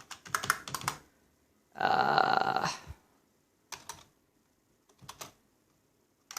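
Computer keyboard typing during a Windows install on a budget AMD A8-7600 gaming PC build, with short bursts of clicky keystrokes and one longer run of rapid keys, separated by pauses and close-miked.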